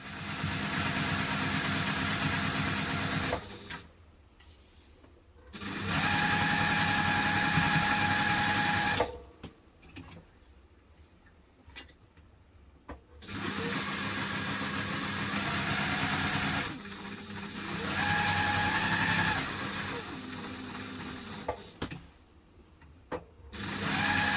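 Sewing machine stitching the seams of a hipster bag in several loud, steady whirring runs of a few seconds each, separated by short quiet pauses, with no talking.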